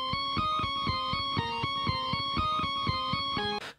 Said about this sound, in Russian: это звук с плиты, просто, возможно, другой его вариант, как-то по-другому вырезанный в сэмплере